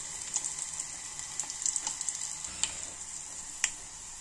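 Onions and black gram dal fry in a pan, a soft steady sizzle with light stirring clicks and scrapes scattered through it.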